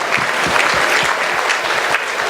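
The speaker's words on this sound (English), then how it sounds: "Another round of applause for that beautiful performance." Loud, close audience applause at a charity gala following a devotional Sanskrit song performance, a thick, continuous roar of many clapping hands with a few individually audible claps standing out.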